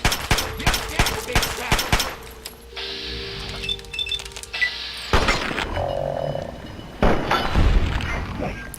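Fallout 3 gunfire: a rapid burst of sharp, close shots at first, then intermittent shots and thuds among other game sounds.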